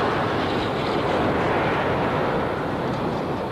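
Rocket engines igniting at launch, a dense, unbroken roar of broadband rumble and hiss that stays loud and steady throughout.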